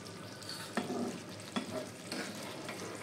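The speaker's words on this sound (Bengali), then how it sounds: "তো আমি একটু সবজিগুলোকে উপর নিচে করে দেবো, মাছগুলোকে একটু তলার দিকে দিয়ে দেবো।" Mourala fish and vegetables sizzle steadily in a frying pan while being turned over, with three or four distinct scraping stirs cutting through the continuous frying hiss.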